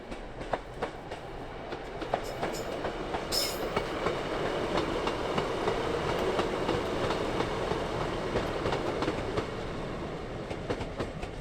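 A train rolls past at night, a steady rumble with rhythmic clicking wheels building to a peak and easing off, heard from some distance.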